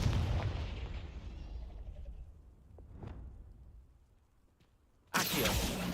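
Confringo blast spell from Hogwarts Legacy, a booming fiery explosion that fades slowly, with a couple of faint pops, then a sudden loud burst of another effect at the end.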